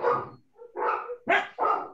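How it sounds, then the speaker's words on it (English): Dogs bark at home in four quick, close, loud woofs with short gaps between them, alone and without any talk. "And I have three dogs who are glad to be part of the action too."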